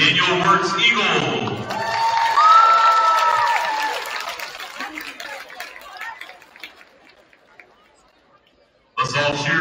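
Gym crowd at a high school women's basketball game cheers and claps for the Daniel Wirtz Eagles, a loud swell that gradually fades to quiet before a voice breaks in.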